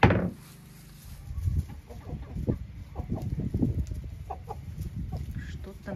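Laying hens cluck and murmur in short, irregular bursts amid faint background noise, fairly close and moderately loud.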